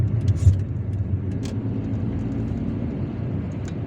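A car drives along a highway in Algiers, giving a steady close engine and road rumble with continuous tire noise and no talk.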